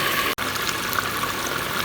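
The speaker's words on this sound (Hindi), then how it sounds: "अब इसमें मैं पानी डालूँगी" Water poured into a pot of cooking goat trotters with fried spices and oil, a steady gushing splash of liquid, close and continuous apart from a brief break near the start, with no talking.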